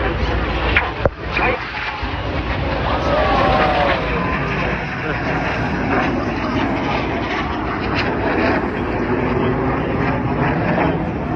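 Jets of a synchro pair fly over the Blackpool airshow, giving a steady, loud broadband roar that lasts throughout, with crowd noise and a faint voice underneath.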